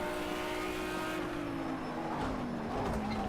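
Race cars in a racing video game, including an AI-driven Porsche, roar steadily with a sustained engine drone that shifts pitch slightly as they run close together, continuous and loud with no talking.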